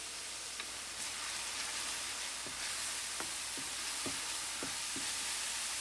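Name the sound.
garlic and red pepper flakes sizzling in oil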